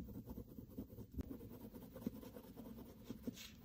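Colored pencil shading on paper while coloring snow: faint, close scratchy strokes rubbing back and forth in an irregular rhythm, soft and steady with a few small taps.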